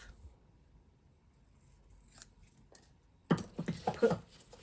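Scissors cut a piece of craft paper in half, a short run of crisp snipping and rustling after a mostly quiet stretch with faint handling.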